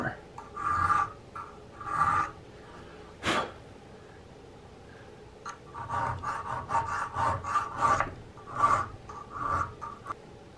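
A metal file rasps in short repeated strokes on the entry pipe of a Hawken muzzleloading rifle kit, close up, with a few pauses and one sharp scrape between bursts of filing.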